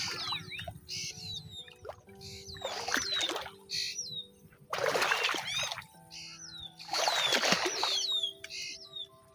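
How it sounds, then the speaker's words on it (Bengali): Birds perched on power lines above a weed-choked village canal in Bangladesh give repeated squawks and chirps, in bursts with quiet gaps between them, while faint trickling water sounds beneath. "আর উপরে পাখিতে ডাকতেছে"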